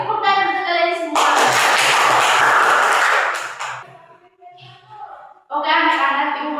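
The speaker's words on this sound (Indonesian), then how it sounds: "tepuk tangan untuk kalian semua" Schoolchildren in an Indonesian classroom burst into loud group applause lasting a few seconds, set between a teacher's voice and the children's voices.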